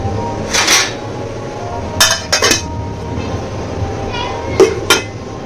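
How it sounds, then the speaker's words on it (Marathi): Metal clinks of a lid set onto a cooking pot of pooran in a home kitchen, a few short sharp clatters in separate bursts over a low steady background. "आता मी ह्याला झाकण लावून ठेवून देते पुरण होईपर्यंत."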